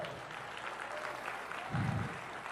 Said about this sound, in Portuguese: Dá uma salva de palmas a Ele por isso.